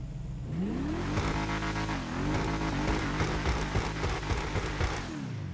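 Enus Deity car engine in GTA Online revving steadily and loudly, pitch climbing and falling through repeated throttle blips, with no voices over it.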